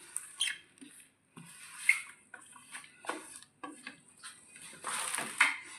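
Chopped carrot, coriander leaves, capsicum, onion and green chilli are tossed together in a bowl for Chinese pakoda, giving soft, quiet rustling and light clinks against the bowl in short irregular bursts.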